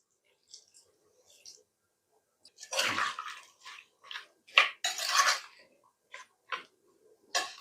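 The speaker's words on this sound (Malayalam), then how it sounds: "നമുക്കൊരു 1/2 കപ്പ് വെള്ളം കൂടെ ഒഴിച്ചു കൊടുക്കാം." Half a cup of water is poured into a pressure cooker in a series of short, close splashes and trickles, with light metallic clinks between them in an otherwise quiet kitchen.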